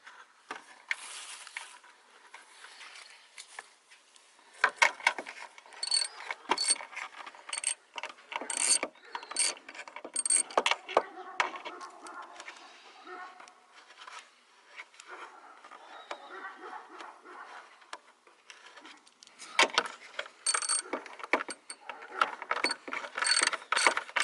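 Screws are driven into the taillight housing of a 2012 Honda Pilot, quick bursts of ratcheting clicks and scraping twists close up, coming in irregular spurts separated by brief pauses.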